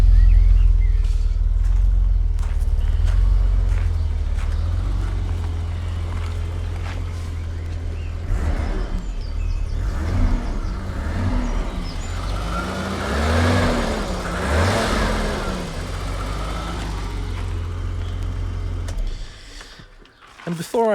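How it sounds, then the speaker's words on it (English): A BMW E24 6 Series modern classic on the move, its engine giving a low steady burble with road and cabin noise under someone talking, the drone easing and shifting slightly before fading near the end. "compared to a modern car, it's still got a bit of a burble."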